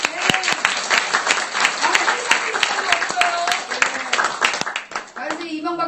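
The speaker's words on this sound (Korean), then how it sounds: "박수 한번." Lecture attendees in New York break into loud, sustained applause, a dense wash of many hands with scattered sharper claps and voices audible underneath.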